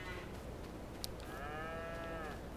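A low, drawn-out mooing call from cows in Farming Simulator 22 rises over a steady background hum, followed by a second moo; the animal calls sound fairly close.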